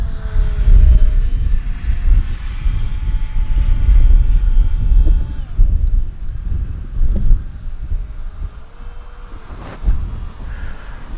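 A small Skynetic Dragonfly RC model plane's engine whines steadily overhead, its pitch rising and falling as it passes, with rumbling wind buffeting the microphone.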